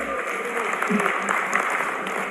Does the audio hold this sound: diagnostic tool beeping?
no